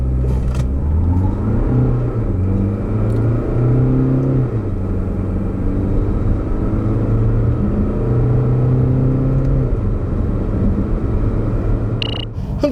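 A 2019 SsangYong Korando engine rumbles and climbs steadily through rising revs while accelerating from a standstill, with shifts between gears, loud and close, then eases near the end.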